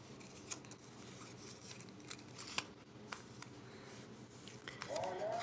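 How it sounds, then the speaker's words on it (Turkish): Scissors snip the tip of a folded paper strawberry-shaped gift box in several faint, quick cuts spaced irregularly against a quiet background. "Şöyle minikçe açmadan da ucundan keselim."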